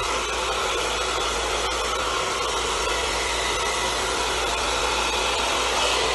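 A hair dryer blows steadily and loudly at close range while hair is being blow-dried, a continuous airy roar with no pauses and no talking.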